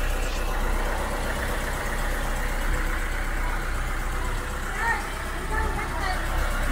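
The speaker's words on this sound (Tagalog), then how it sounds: "Ito yung makina nila, oh" A manual-transmission vehicle engine idles nearby with a steady, low, even rumble and no revving, while a faint murmur of voices sits underneath.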